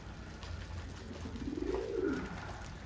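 Pigeons in a home loft give a soft, low, rolling coo partway through, under steady background hum and faint ambient noise.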